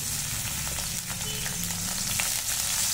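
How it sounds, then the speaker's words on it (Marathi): Onion frying in oil in a hot kadhai, a steady, dense crackling sizzle that holds throughout, with occasional faint clicks from stirring and no one speaking. "आता कांदा छान फ्राय करून घेऊ।"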